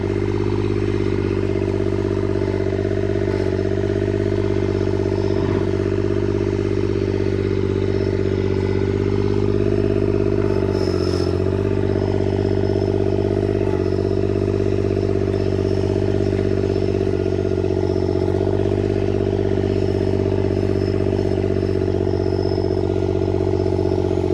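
A John Deere 430 diesel garden tractor idling and driving, a loud steady diesel drone throughout with slight pitch shifts and occasional clanks.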